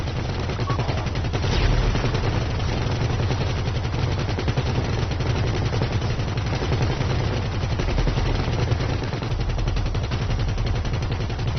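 Rapid bursts of automatic gunfire from the GTA V video game rattle on nonstop and loud, dense and continuous, with no talk over them.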